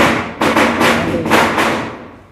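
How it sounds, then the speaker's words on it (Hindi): Firecrackers burst outdoors during a celebration, a loud cluster of four or five booming cracks with a broad rumbling wash that fades away at the end, with no talking. "कितना पटाखा ये लोग फोड़ेगा आज"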